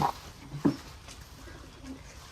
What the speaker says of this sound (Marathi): कबुतर डोक्यावरती